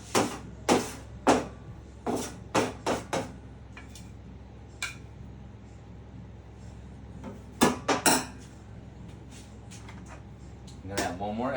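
A fork clinks and scrapes against a bowl while working eggs into flour for pasta dough, landing in short bursts of sharp taps separated by quieter stretches.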